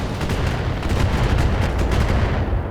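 Salvo of missile fire from a Catapult mech in the modded BattleTech game Roguetech, a dense, continuous rumble of rapid launches and blasts holding loud and steady, with no talk.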